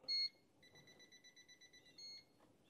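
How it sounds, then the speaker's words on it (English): A voltage tester sounds its audible alarm while checking a GFCI and duplex outlet: a rapid train of short, evenly spaced electronic beeps, close and clear, with a louder tone at the start and one near the end. "And it has those 2 levels of audible alarm."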